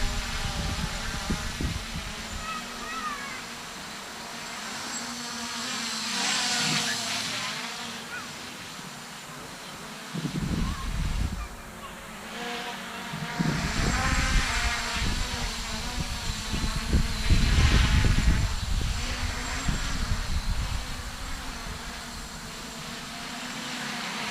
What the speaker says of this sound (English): And it's not that noisy, although, you know, it is only on 2S, but 8-inch propellers.